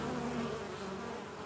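Honey bees at a hive where three guard bees are attacking a single bee. A dense, close, continuous buzz fills the brief moment, with no voices.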